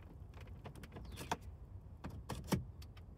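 A few faint mechanical clicks as the key is inserted in a Mercedes-Benz C-Class W204 with a faulty electronic steering lock, two slightly sharper ones standing out, against a low hum in an otherwise quiet space.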